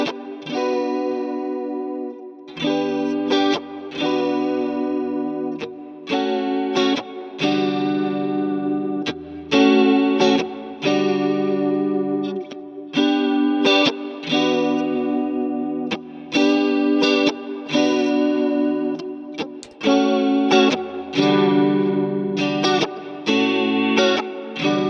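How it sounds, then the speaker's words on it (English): Clean electric guitar played with a touch of reverb, picking out a repeated riff of chords and single notes in phrases with brief pauses, loud and close with no talking. "This is with a clean tone with sort of a bit of reverb."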